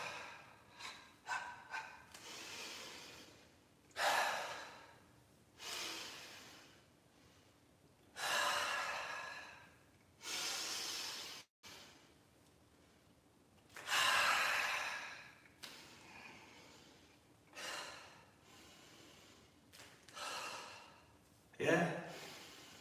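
Qi Gong iron body breathing: a series of forceful, rhythmic breaths, with sharp exhalations and drawn inhalations coming in separate bursts between quiet pauses, close and fairly soft.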